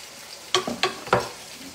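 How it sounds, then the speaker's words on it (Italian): Spaghetti with mussels cooking in a pot, stirred and shifted in three short scraping, clattering strokes with faint sizzling between them, close and fairly quiet with no talk. "con questa pentola qua ci metto un po' a cucinare, e faccio questo movimento qua, sposto"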